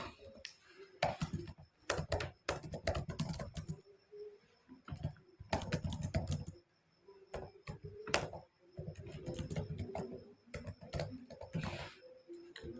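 Fingers type on a computer keyboard in quick close bursts of clicking keys, broken by short pauses.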